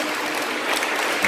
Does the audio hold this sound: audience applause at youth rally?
yes